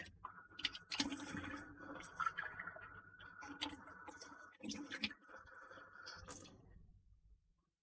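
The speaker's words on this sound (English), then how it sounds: "Alright, wash the grinder." Tap water runs and splashes as a coffee grinder is washed, quiet and close, with uneven gurgles and drips that taper off to silence at the end.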